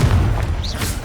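Confringo blasting spell explosion in Hogwarts Legacy, a single loud, deep boom with a heavy low thud that rumbles on briefly, close and with no voices.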